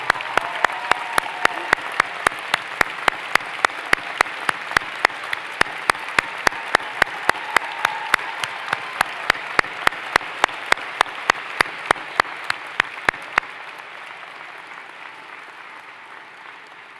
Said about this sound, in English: let's give them a round of applause for all the great support they've given you